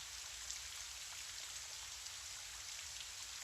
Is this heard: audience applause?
no